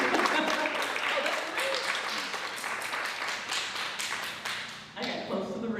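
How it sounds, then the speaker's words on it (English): Audience applause and scattered clapping for a Florida Boxing Hall of Fame inductee, steady and fairly loud for about five seconds before thinning out, with a voice starting up at the end. "That deserves an applause right there."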